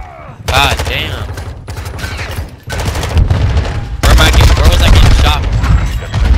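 Rapid bursts of automatic gunfire and explosions during a ranked multiplayer match of Call of Duty: Modern Warfare II, loud and dense throughout, with a brief lull before the shooting resumes.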